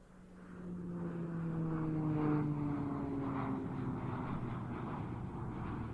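A Saab SK60 jet trainer arrives at the RIAT airshow, its engine roar swelling in from a distance and holding as a steady, broad rush with a gliding tonal whine, moderately loud and without talk.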